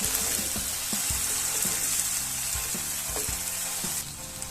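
Onion, tomato and ginger-garlic paste sautéing for egg bhurji, a steady close sizzle with scattered spatula scrapes and taps against the pan, easing slightly near the end.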